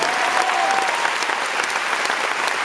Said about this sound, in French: qu'on peut applaudir très fort de la tournée.